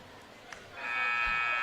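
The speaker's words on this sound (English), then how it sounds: "As the buzzer goes, Travis is out on the floor." A loud, steady electronic buzzer at a volleyball match starts after a quiet moment of arena murmur and holds its tone to the end.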